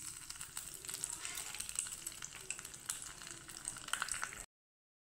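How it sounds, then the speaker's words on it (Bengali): Two dried red chillies and two bay leaves frying in a little oil in a small tempering pan, a steady crackling sizzle with scattered sharp pops, fairly quiet and close, cutting off near the end. "দিয়ে দিব সামান্য তেল। আর এখানে দিয়ে দিব টুকরো করে রেখেছি দুটো শুকনো লঙ্কা,"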